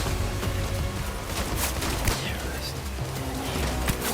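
Enemy shotgun fire in the video game Death Stranding, a dense barrage of sharp blasts layered over a continuous roar of noise, loud and chaotic throughout.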